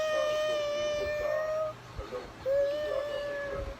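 A young child imitates a cat, giving two drawn-out, wavering meows with a short pause between, close to the microphone over a faint background hum.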